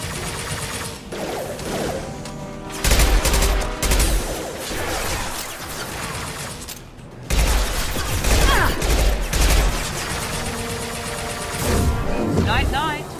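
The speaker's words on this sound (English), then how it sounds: "Firing concussive shots!" Heavy bursts of concussive shots and gunfire in Mass Effect 2 combat, arriving in loud thumping clusters separated by quieter stretches, with voices speaking over the action.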